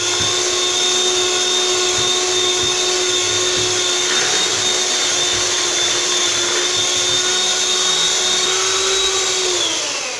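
Electric hand mixer beating pineapple cake batter in a home kitchen, a loud steady high-pitched whine running continuously for about ten seconds, winding down at the end, with no talk.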